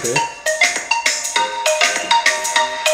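A bright, melodic ringtone from an LG G7 phone's loudspeaker, quick repeating chime notes in a lively rhythm with emphasized bass, loud and close with no talking.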